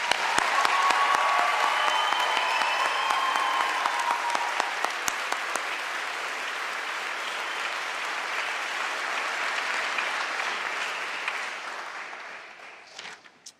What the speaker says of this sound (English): I think we should give them all one more round of applause